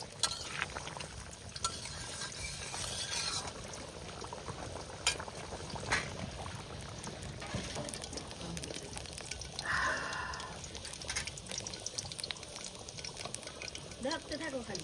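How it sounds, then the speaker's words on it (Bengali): Goat meat curry broth bubbles at a steady boil in a home kitchen, a dense, constant simmering hiss and gurgle running throughout, with voices talking nearby over it. "ঝোল টকবক টকবক করতেছে।"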